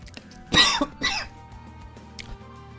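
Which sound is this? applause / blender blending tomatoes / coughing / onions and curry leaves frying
coughing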